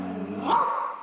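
A dog barking from the upper floor of a house with several dogs, heard as a short muffled yelp or bark at middle distance with no talking over it.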